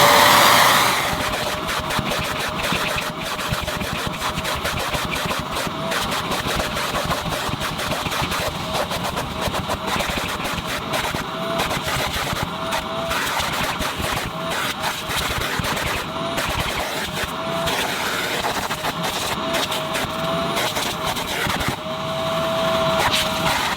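A 1979 Hoover Dustette 2614C handheld vacuum cleaner runs continuously and loudly for the whole stretch, a steady motor whine and rushing air with small flutters as it cleans off dirt.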